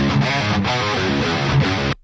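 Unprocessed distorted metal guitar tracks play as a dense, thick, saturated chug with short rhythmic gaps, loud and dry without reverb, then cut off abruptly at the end.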